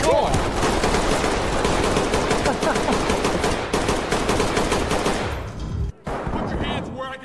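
Rapid sustained automatic gunfire in the tactical shooter game Ready or Not, loud and dense for several seconds before a brief cut and a few more shots, with shouting voices mixed in.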